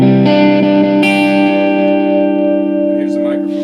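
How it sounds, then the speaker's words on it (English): A Fender electric guitar rings out sustained, distorted chords with a thick, saturated tone and a long reverberant tail, loud and steady with a fresh strum about a second in, with no voices over it. "Here's putting distortion on the fender."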